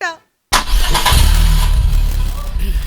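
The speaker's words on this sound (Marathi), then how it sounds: "गाडी सुरू करू? हा गाडी सुरू कर." A car engine cranks and catches after a moment of silence, then settles into a loud, steady rumbling idle close by, with a voice speaking briefly at the very start.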